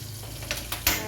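Onion and tomato fry in a pan, with a low steady sizzle and a few quick scraping strokes from stirring close by.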